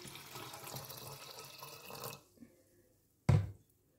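Soaked varagu millet rice is washed in water: a steady rush of running water stops, followed by a brief quiet and then one short, close splash.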